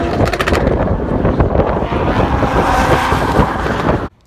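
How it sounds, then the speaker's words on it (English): A red Nissan S14 drift car with a 2JZ engine making around 600 horsepower, roaring loud and close as it bounces off the rev limiter in rapid stuttering bursts, then cutting off abruptly near the end. "He actually has the red S14 with the 2J putting out like 600 horsepower, and he's just bouncing off the rev limiter all the time."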